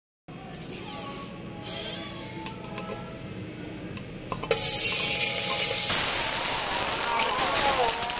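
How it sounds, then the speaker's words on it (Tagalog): Water is poured into a cooking pot of corned beef sinigang, starting about midway as a loud, steady broadband rush that follows softer kitchen clatter and runs to the end. "Lagyan na natin siya ng water."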